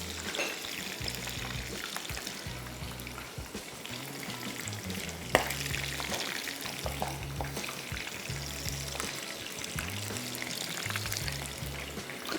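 Medium-sized prawns deep-frying in hot oil in a kadai give a continuous, dense bubbling sizzle at moderate distance, with a faint low hum underneath and no speech.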